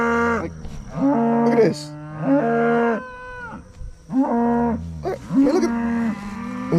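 Cattle in a lush fescue pasture bawl loudly and repeatedly, several long moos in close succession from nearby animals, with a person speaking briefly between calls.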